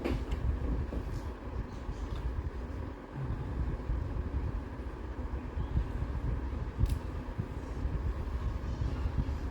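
A small USB fan's motor spins with a low, steady whirring hum, close and continuous, with faint clicks and handling noises scattered over it.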